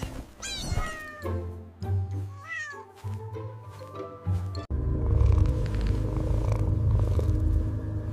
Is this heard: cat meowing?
yes